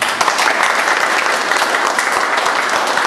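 Audience applauding at the opening of a painting exhibition, continuous close clapping that holds steady across the moment with a few brighter individual claps standing out.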